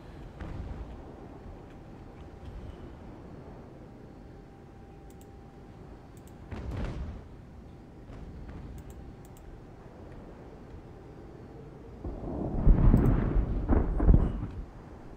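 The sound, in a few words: naval cannon fire from video game Ultimate Admiral Age of Sail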